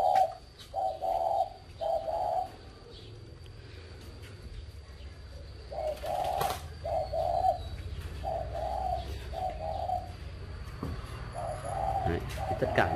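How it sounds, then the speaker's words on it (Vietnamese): Doves coo on a dove farm in Ba Vi, Hanoi, a close, steady run of repeated two- and three-note coos in regular bursts, with faint background hum and no speech over them. "Chim này chim thổ có âm luôn các bạn nhé"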